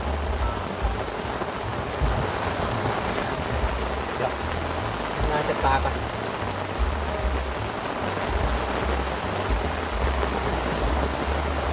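Heavy rain pours steadily and loudly on a fishing trip, a dense unbroken hiss with low rumbling underneath and a brief spoken remark partway through.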